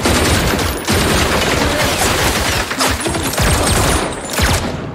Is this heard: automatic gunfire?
yes